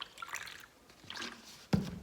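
Small amounts of water trickle and drip into acrylic pouring paint, a few faint, soft splashes spread across a quiet stretch.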